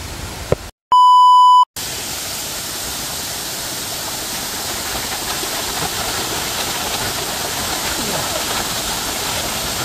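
Kanching waterfall in a forest park near Kuala Lumpur, a steady broad roar of rushing water right up close, continuous and loud, with a short electronic test beep cutting in at the start.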